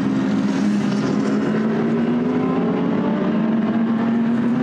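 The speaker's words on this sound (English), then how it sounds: "as the rest of the cars come across the line" GT race cars, a Lamborghini among them, roar past the finish line at the Misano circuit, a loud, steady engine drone with a rising pitch that holds throughout without a break.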